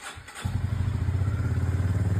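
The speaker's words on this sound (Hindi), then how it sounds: "पहले पहले आप अपनी बाइक स्टार्ट कर लो, फर्स्ट गियर में रखना, देन आपका टायर रोटेट करता रहेगा।" A motorbike starts with a brief clatter, then its engine settles into a steady, close idle-like throb while running in first gear so the rear tire keeps turning.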